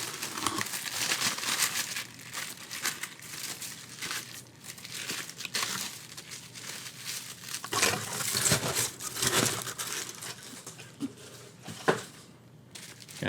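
Bubble wrap crinkles and crackles steadily while a package is unboxed, a close, busy rustle of plastic packing that runs throughout with a few sharper pops and crunches.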